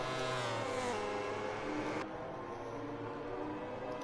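Racing motorcycle engines roar continuously in MotoGP 20 at Sepang, a loud sustained high-revving whine that holds steady and then drops slightly in pitch partway through, with no talk over it.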